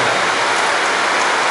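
Heavy rain falling steadily, a dense, loud, even hiss of drops close by with no pauses and no voices.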